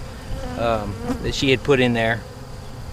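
Honey bees buzz during a dusk hive inspection of a weak split nuc holding about half a frame of bees with brood. The hum sits close under a person talking.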